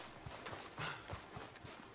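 Rhythmic clip-clop of horse hooves at a steady trot in Red Dead Redemption 2, fairly close and moderately loud, with a synthetic, game-like quality.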